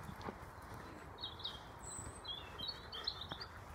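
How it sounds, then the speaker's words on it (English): A robin calling in woodland: a few thin, high, warbling phrases at moderate distance, faint against a steady outdoor hiss, with light footstep-like thuds underneath. "There's a robin calling."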